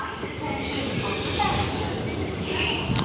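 A steady rumble of a train moving through Rangia railway junction in Assam, India, with metallic wheel squeals rising faintly over the noise.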